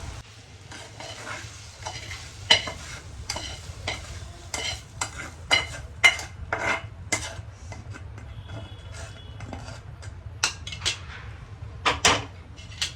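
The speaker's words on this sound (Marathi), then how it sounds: "तुम्ही ही भेंडी प्लेटमध्ये काढायची तर मी आता प्लेटमध्ये काढते" Fried okra being scooped from a pan onto a plate, a steady sizzle under a series of sharp scraping and clinking strokes of a utensil against metal, close and uneven in rhythm.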